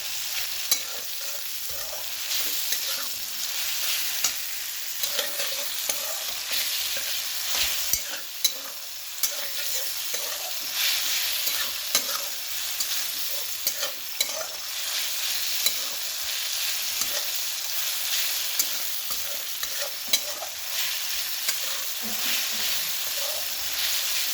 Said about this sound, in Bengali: পরিমাণ মতো লবণটাও দিয়ে দিচ্ছি, এটাকেও একবারে ভেজে নেব।